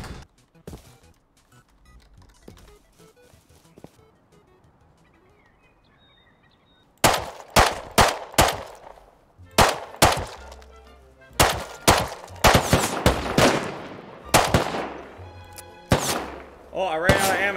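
Gunfire in the survival video game Rust: after a quiet stretch with faint distant pops, a series of loud, sharp close shots rings out in irregular bursts, some in quick succession, with a voice talking in between.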